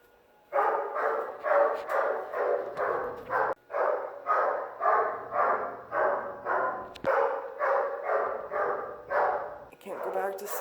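A neighbour's little dog barks repeatedly in rapid, rhythmic bursts of yaps, loud and fairly close, with brief pauses between runs of barking.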